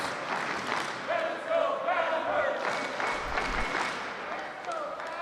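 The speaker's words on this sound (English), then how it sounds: "Let's go Paddlers, the chant from this raucous crowd" A raucous crowd chants at a Major League Table Tennis match between Seattle and Portland, a rhythmic swell of many voices in a hall, with a commentator talking over it.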